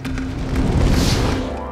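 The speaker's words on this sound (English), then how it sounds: "you can see the fire has now gone to the overhang" A fire fuelled by lighter fluid spreading up into an overhang roars in a loud, continuous rushing whoosh with a deep rumble, close and steady for under two seconds, with no talking.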